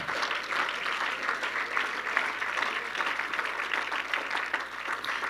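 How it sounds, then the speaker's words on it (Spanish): A church congregation claps steadily throughout, a dense even wash of applause with faint voices mixed beneath. "Denle ese aplauso más fuerte al Señor."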